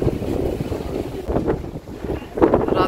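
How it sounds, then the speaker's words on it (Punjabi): Strong outdoor wind on a morning after a night of heavy rain and thunderstorms, roaring and gusting steadily across the mic with broadband rushing that swells in bursts, no talk present. "ਕਿੰਨੀ ਹਵਾ ਚੱਲ ਰਹੀ ਹੈ।"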